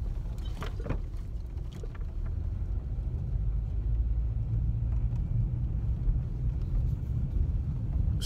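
A car backs out of a garage on a stormy winter day, a low steady engine rumble close by with some faint clunks early on and no talk.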